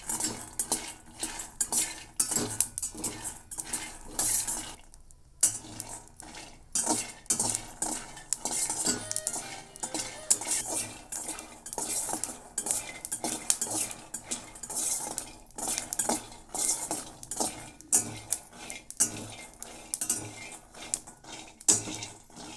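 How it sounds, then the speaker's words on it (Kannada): Dry roasting in a pan with no oil, a spoon stirring slowly with steady scraping and clinking against the metal, close and continuous with faint sizzle and a short pause near five seconds. "ಆಯಿಲ್ ಏನು ಹಾಕ್ಬೇಡ್ರಿ, ಹಾಗೆ ಹುರಿರಿ."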